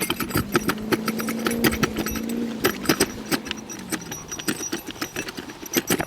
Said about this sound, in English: Sorry for all the noise with the tools in there.